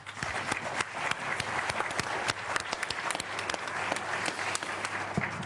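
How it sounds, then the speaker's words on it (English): A crowd at an award during a live trade discussion event applauds steadily, many hands clapping together in a dense, continuous patter that holds its level from start to finish. "But I think they deserve a big applause."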